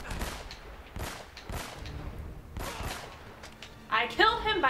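Repeated gunshots ring out in the video game Uncharted: Drake's Fortune, several distinct booming reports spaced about a second apart, with a voice talking over the last moment.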